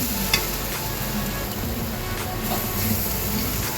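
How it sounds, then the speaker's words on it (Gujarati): Rava dosa batter poured onto a hot griddle gives a steady, loud, continuous sizzle with a few faint ticks and pops throughout. "હવે આપણે બેટરને આવી રીતે તવાની ઉપર નાખી દઈશું."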